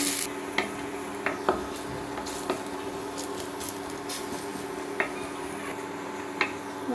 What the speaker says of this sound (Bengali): রসুনটাকে আমি একটু গোল্ডেন করে ভেজে নেব।